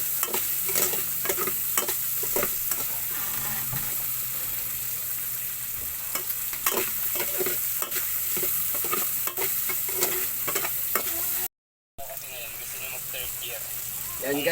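Vegetables for pakbet being stirred and fried in a pan, a steady sizzle broken by repeated scraping stirs of a utensil, close up, with a brief dropout near the end.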